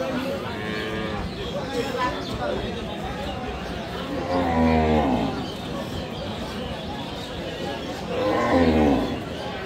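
A Sahiwal cow with her calf at Aftabganj cattle market in Dinajpur moos loudly twice, long low calls rising over a steady background of crowd chatter.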